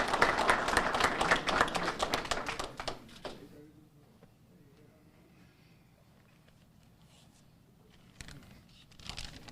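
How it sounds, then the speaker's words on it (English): An audience claps loudly to welcome a new head football coach at Southern, a dense burst of applause that fades out after about three seconds, leaving quiet room tone with a faint stir near the end. "Can we get a round of applause for Coach Graves?"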